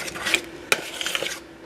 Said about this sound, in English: Then we just want to mix this all together.